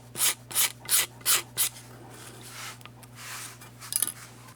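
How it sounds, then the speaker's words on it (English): Razor blade scraping cured resin on a guitar fretboard, five quick rasping strokes in a steady rhythm, close and crisp, then softer scraping trailing off under a low background hum. "Now I can use a razor blade here"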